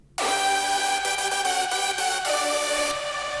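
A bright hardstyle lead synth in FL Studio plays clean, dry chords, sustained and loud from start to finish with a few rhythmic accents and no voice.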